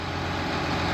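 A small tractor engine drones steadily, heavy and low, as it drives through a muddy swamp ditch, with a continuous close rumble and no talking.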